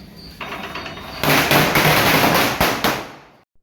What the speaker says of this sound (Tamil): ஃபஸ்ட்டு போய் என் சிஸ்டர் வந்து ஒரு சின்ன சரம் வச்சாங்க.